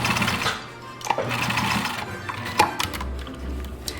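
Sewing machine stitching a short reinforcing seam on the side of a craft apron pocket, brief bursts of whirring motor and needle clatter with a few clicks, close by and moderately loud.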